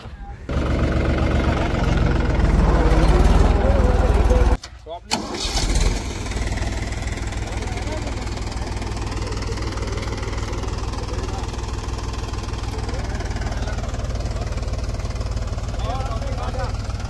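A Mahindra tractor engine rumbles loudly and steadily close by on sandy farmland, briefly dipping before settling back into a constant idle-like drone.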